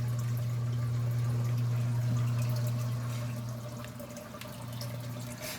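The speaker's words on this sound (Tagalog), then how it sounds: "Medyo okay na yung flow ng tubig sa baba." Water flowing steadily from a tube into a crayfish tank, a continuous close splashing trickle over a low steady pump hum, gradually easing slightly toward the end, with no talking.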